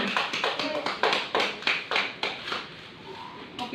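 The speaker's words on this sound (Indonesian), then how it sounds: "Tepuk tangan untuk teman kalian." A classroom of students claps for a classmate during a teaching-practice lesson, a steady run of about ten distinct, fairly close claps at an even rhythm that stops near the end.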